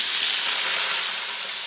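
Potato pieces frying in a generous amount of hot oil make a loud, steady, bright sizzle that holds evenly throughout, close up and with no voices.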